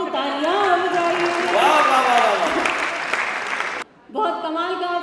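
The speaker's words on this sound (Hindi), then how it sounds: "भजन समाप्त, तालियां बजाइए।" Audience applause at a Kolkata Hindi poetry event (kavi sammelan) after a Holi bhajan, a dense, loud wash of clapping that dips to near silence briefly before resuming, with a tonal voice or music line running through it.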